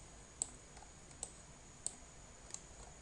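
Mouse clicks in AutoCAD Civil 3D, four crisp, isolated clicks spaced roughly half a second apart over a quiet background hum.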